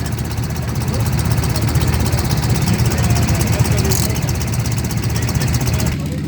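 A flat-twin motorcycle engine idles with a steady, rapid low rumble and faint knocking, close and continuous for several seconds, with people talking at a motorcycle gathering.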